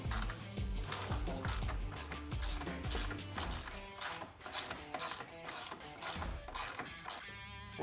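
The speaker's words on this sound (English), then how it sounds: "Take your extension and your ratchet in there, and you can just remove those." A hand ratchet with an extension clicks steadily while removing 10 mm bolts from the front plastic of a 2016 to 2018 Yamaha Grizzly 700 ATV, with repeated quick pawl clicks and pauses, close and clear.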